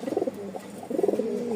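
A newly paired breeding pair of pigeons coos softly and close, with two rhythmic bursts of throaty cooing separated by a short pause, no talking.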